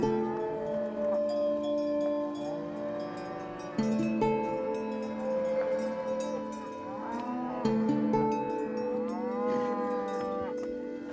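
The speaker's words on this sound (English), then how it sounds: "It is just a sea of cows around here." A herd of cows in a Mandari cattle camp lowing together, with deep, drawn-out moos overlapping continuously, some near and some farther off, forming a steady chorus with no talk.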